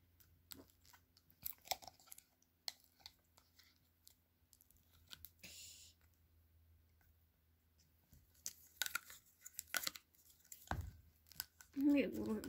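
Purple and yellow Play-Doh super stretch slime is squished and pulled by hand in short, sparse sticky clicks and crackles, quiet and close, separated by pauses, with a louder burst at the end.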